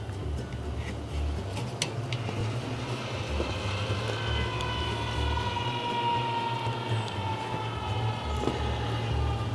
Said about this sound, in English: Okay, let's crank on the motor.